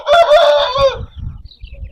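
A red Aseel rooster crows once, loud and close, followed by lower clucking and rustling from nearby hens in an open farm yard.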